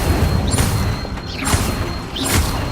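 Fiery spell blasts cast with a wand in Hogwarts Legacy, three loud whooshing bursts in a row amid game effects, no talking.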